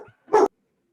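A dog gives one short, loud, close bark after a faint preceding yelp, then silence.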